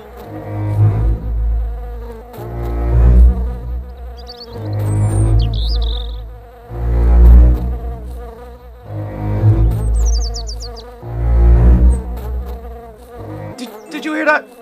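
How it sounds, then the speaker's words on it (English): A loud buzzing fly in the Minecraft video game drones in repeated swelling waves, close and dominant, with faint higher chirps over it. "Wait, is that just a fly? Okay, that was just a fly."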